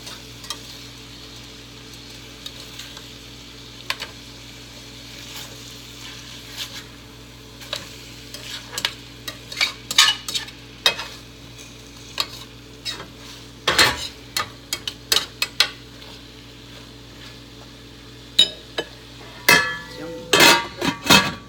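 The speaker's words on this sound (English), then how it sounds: "And all we're doing is browning the chicken." Chicken browns in a pan with a steady sizzle and fry hiss, while a utensil stirs and scrapes, giving scattered clinks and knocks that grow busier and louder toward the end.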